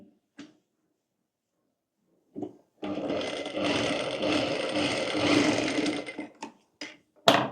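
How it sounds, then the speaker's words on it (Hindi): A sewing machine runs in one sustained burst of stitching on night suit fabric, preceded and followed by brief clicks and handling knocks, loud and close with no talk. "अब यहाँ पर सिलाई कर लेंगे"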